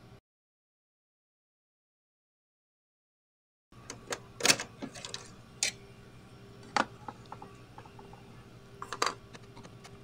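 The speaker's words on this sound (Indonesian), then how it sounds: "ambil obeng, congkel sedikit seperti ini sambil kita tarik ke atas" A screwdriver pries the cartridge holder off an Epson L3110 printer, with sharp plastic clicks and snaps after a silent stretch, several louder cracks spaced irregularly over soft handling noise.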